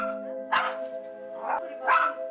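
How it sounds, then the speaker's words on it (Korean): Jackson the dog barks fiercely in three loud, harsh bursts about a second apart, close by, with steady harmonic background tones running underneath. "무섭게 짖어대는 잭슨이"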